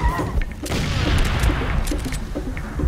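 Gunfire and a grenade blast in the video game Far Cry 2, with a dense roaring burst of explosive noise and scattered sharp shots, loud and close, with a voice talking briefly underneath.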